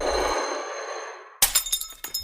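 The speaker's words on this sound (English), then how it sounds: "this, of course, was the sound of a glass falling off of some kind of hard surface and shattering on the ground" A glass falling off a hard surface and shattering on the ground: a long ringing tone, then a sharp crash with a rapid series of tinkling shard impacts, loud and close.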